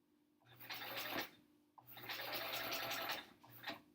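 A sewing machine stitches a large border onto a sampler quilt in two longer bursts and a short final run, with a faint whirring hum and the quiet patter of the needle in a calm room.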